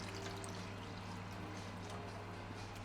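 Water poured into a stock mixture made with stock cubes while cooking, a steady close splashing pour over a constant low hum.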